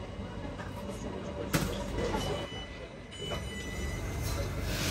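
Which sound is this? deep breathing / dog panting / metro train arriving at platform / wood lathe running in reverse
metro train arriving at platform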